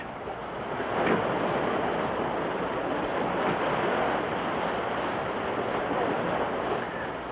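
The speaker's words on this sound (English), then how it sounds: "the waves wash over the border, and we have to keep bailing to keep them afloat" Ocean waves wash over a small fishing boat on the Grand Banks of Newfoundland, a continuous loud rushing surf with wind noise buffeting the microphone and no voices.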